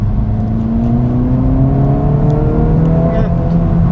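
A 2024 Acura Integra Type S engine holds a steady, loud drone at low rpm from inside the cabin, its pitch climbing slowly and evenly, with a speaking voice faintly in the background.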